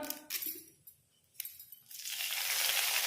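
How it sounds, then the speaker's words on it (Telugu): Chana dal, cumin and dried red chillies lightly frying in a tempering pan: a few faint clinks, then a soft, steady sizzle that rises and holds near the end. "ఇవన్నీ కూడా ఇలా లైట్గా వేయించుకోవాలి"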